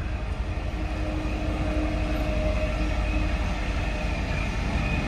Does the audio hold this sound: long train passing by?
yes